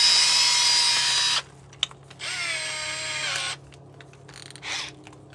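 A power drill whines loudly for about a second, stops, then runs again with a shifting pitch, followed by faint clicks and a short rustle.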